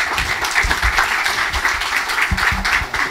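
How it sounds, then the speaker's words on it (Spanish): Conference audience at a smart cities talk giving loud, close applause, a dense burst of many hands clapping throughout with no speech over it. "para quien pido un fuerte aplauso"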